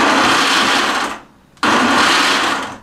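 A kitchen blender pulses almonds for homemade almond milk, two loud whirring bursts separated by a short pause with no voices.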